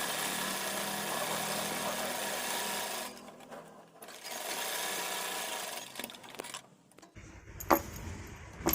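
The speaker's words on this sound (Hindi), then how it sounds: "पट्टी के किनारे किनारे सिलाई लगानी है ताकि हमारी फिनिशिंग अच्छी आए" A sewing machine whirs steadily for about three seconds as it stitches along the edge of a fabric strip for a baby frock, then stops and starts in short bursts amid clicks and handling noises.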